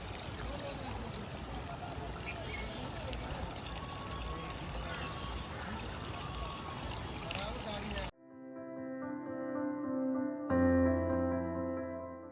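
Sewer line water running steadily across a road in a brigade area, a continuous broadband rush and trickle that fills the first eight seconds, after which unrelated tonal sound takes over.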